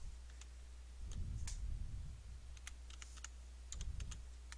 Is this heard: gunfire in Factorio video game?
no